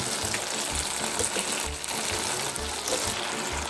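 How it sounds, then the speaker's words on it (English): Starchy pasta water is poured into a hot pan of sauce for a butternut squash and sausage pasta, a steady close splashing gush with a bubbling simmer running continuously underneath. "don't be shy to add the pasta water because that is the secret on how to make creamy pastas"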